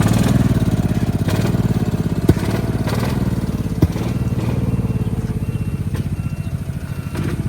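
A 2013 gas EZGO golf cart with new clutches runs with a steady, rapid putter from its small engine, close and continuous, with a couple of sharp knocks along the way.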